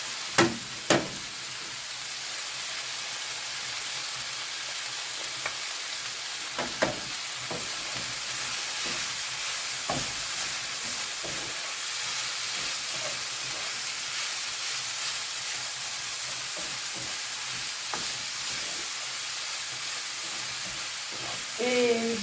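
Garlic and parsley frying in a pan give a steady, even sizzle and hiss, with a few sharp clicks from a utensil near the start and scattered through.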